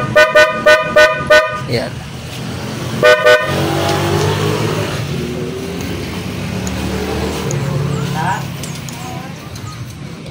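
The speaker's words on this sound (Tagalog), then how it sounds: "kung paano natin siya install ng dual contact horn, yung stock horn at yung kanyang loud horn" Loud PIAA horn on a Honda ADV 160 scooter honks in a rapid burst of five short blasts, then two more, followed by a long stretch of engine and street noise with someone talking nearby.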